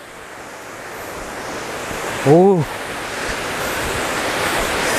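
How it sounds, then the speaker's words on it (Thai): Tad Yuang waterfall near Pakse in southern Laos pours in a steady broad rush of falling water that builds slightly, with a man's brief exclamation heard over it midway. "เสียงน้ำตกครับที่ไหลลงมาจาก ด้านล่างครับผม"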